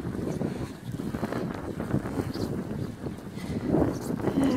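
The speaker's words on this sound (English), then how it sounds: "Turn this a little bit to the north where the wind is blowing out" Wind blowing steadily during a snow storm in a neighborhood in Elgin, Nebraska, a continuous rushing roar buffeting the microphone with gusts swelling near the end.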